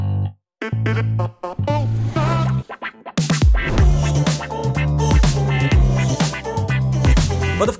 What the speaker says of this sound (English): I added another part of the song, a more quiet part that I took from somewhere in the middle.